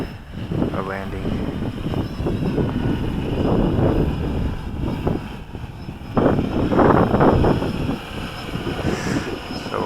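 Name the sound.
WLToys V303 Seeker drone flying in to land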